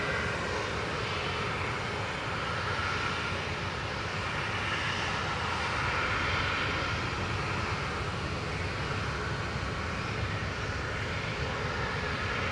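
A plane climbing out just after takeoff at Manchester Airport, a steady broadband engine roar holding at a constant loud level throughout, heard from a distance with no talking.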